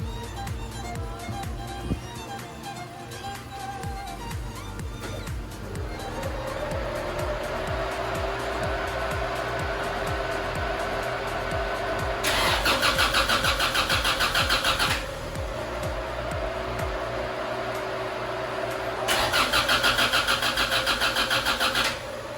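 A Honda EK hatchback engine cranks over without fuel to prime its oil, the starter whirring steadily and loudly, swelling into two harsher, louder bursts of cranking with no talking.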